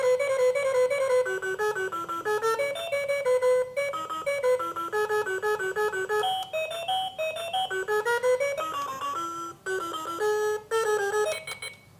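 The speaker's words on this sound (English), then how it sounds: "Those were a few of the alarm tones." A Delicate Designs digital LED talking alarm clock plays through several electronic alarm melodies, with bright beeping chime tunes in steady rhythmic phrases, close and clear, briefly changing tune as the tones are cycled.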